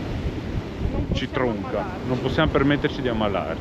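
Wind gusts roar across the microphone on a seafront near Palermo, a heavy, constant rush under a person speaking close by.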